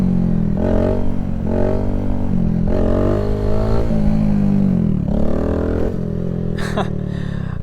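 A Kawasaki Z125 motorcycle engine braking, loud and close, with its engine note repeatedly rising and falling as revs drop through downshifts, plus a brief sharp clatter near the end.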